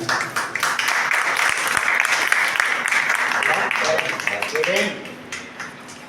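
An audience applauds at a poetry gathering in a government library in Vadnagar, with dense clapping that holds for several seconds and then tails off into scattered claps while a voice speaks.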